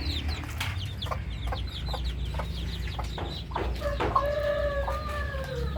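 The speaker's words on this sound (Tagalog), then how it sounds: "Ang ating mga sisiw." Backyard chickens with young chicks of native and Shamo stock: repeated clucks and short chirps, then a clear rooster crow near the end, over steady farmyard background noise.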